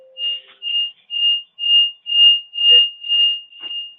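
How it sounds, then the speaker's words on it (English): An alarm beeps in a steady series of eight shrill, evenly spaced high-pitched tones, loud and close with no talk. "Okay, alarm going off."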